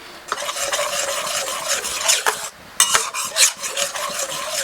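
Thick coconut cream bubbling hard in a pot for Thai green curry, a dense crackling sizzle with scraping stir strokes, close and loud, briefly dipping midway.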